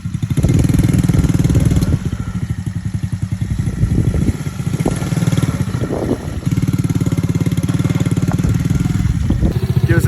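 A small RXR 110cc ATV engine thumps along a trail with a child riding, loud and close, with rapid steady firing, brief dips where the throttle eases and rises again, and no talk.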